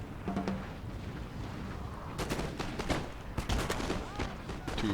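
Musket volleys crackle in Napoleon Total War, a dense spread of small reports with occasional louder bursts, set against constant battlefield noise and a faint voice.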